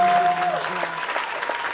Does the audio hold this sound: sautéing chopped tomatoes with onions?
no